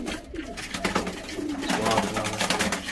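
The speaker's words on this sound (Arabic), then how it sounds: "شوف هادو راه جوج كورة كتسمعوا واحد الحمام كيفرنس" Pigeons coo steadily up close, a continuous low throaty cooing that runs under some background chatter and rustling.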